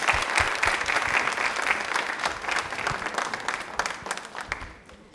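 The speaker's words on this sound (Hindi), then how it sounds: "तालियां एक बार जोरदार हो जाएं।" A studio audience at a televised quiz show breaks into sustained applause, dense and fairly close, fading out near the end.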